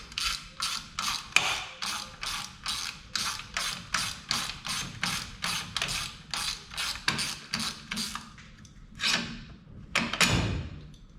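A ratchet loosens the single alternator bolt on a Tri Five Chevy with a Cummins swap, giving a fast run of close, loud clicking strokes, a short pause, then a few final pulls.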